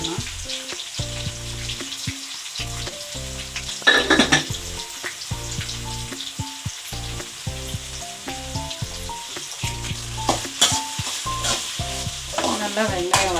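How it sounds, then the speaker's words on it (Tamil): Onions with salt sautéing in a pan for fish curry, a soft steady sizzle under upbeat background music, with occasional stirring scrapes and clinks. "நல்லா வெங்காயம் வதங்கட்டும்."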